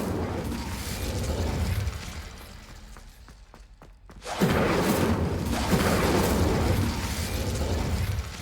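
A fire spell cast in Hogwarts Legacy bursts into a loud, roaring whoosh after a brief lull, then sustains a dense crackling blaze over continuous background game sound.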